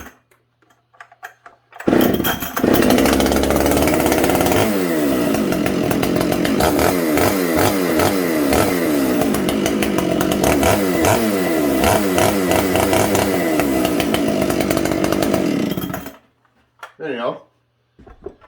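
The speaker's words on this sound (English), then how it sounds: "576 XPG, full wrap. It's a good saw. Let's see if she starts." A Husqvarna 576 XPG chainsaw with a full wrap handle, auto-tune and a modified muffler is pulled and starts, then runs loud and close for about fourteen seconds, revving and idling, before cutting off, with brief talk at either end.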